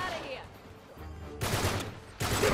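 Gunfire from a burst-fire weapon in the video game Uncharted 3 cracks out in two loud, close bursts a moment apart, after a quieter stretch of game ambience.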